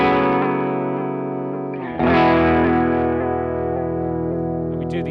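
Chase Bliss Warped Vinyl pedal processing a sustained tone with its warp knob turned left, giving a pulsing, rhythmic wobble to the sound, steady and close with no talking over it.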